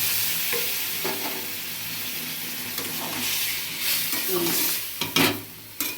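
Bottle gourd pieces tip into a hot pan with a burst of sizzling, followed by steady frying hiss and a few sharp stirring scrapes and clinks near the end, close and without talk.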